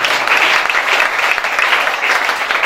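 A church congregation at an evangelical service claps loudly and steadily, a dense, sustained wash of applause with faint crowd voices mixed in.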